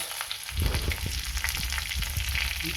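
Whole spices, bay leaf and cardamom, hit hot oil for a tempering while chhana kofta curry is cooked, and a steady close sizzle rises suddenly after a short quiet start and continues to the end.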